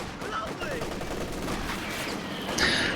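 Sustained automatic gunfire from an MG42 machine gun in a multiplayer video game match, a dense rattling barrage running throughout with a louder burst near the end.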